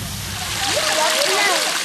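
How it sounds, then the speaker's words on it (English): Untreated waste from Feronia's Lokoto factory pours into the Congo River, a loud, steady rushing and splashing of liquid that runs continuously for a couple of seconds. "untreated waste from Feronia's Lokoto factory pouring into the Congo River"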